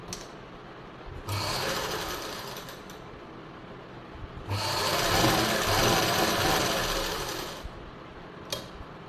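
A sewing machine stitches the center seam of a blouse lining in two steady whirring runs of a few seconds each, with a short pause between and a faint click at the end.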